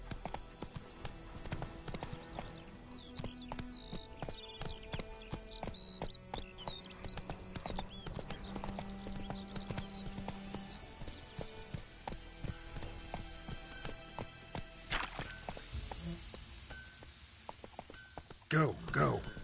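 Roach the horse runs in The Witcher 3, with rhythmic hoofbeats under game music and a voice talking, and a loud burst of sound near the end.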